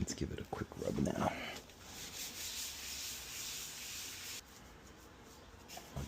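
A puppet that has been stored in a garage gets a quick rubbing, with a steady, close, moderately loud scrub that follows a short burst of busier handling at the start.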